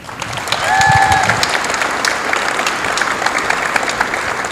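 An awards gala audience applauds together, producing a dense, loud wash of clapping that swells in the first second and then holds steady through the whole stretch.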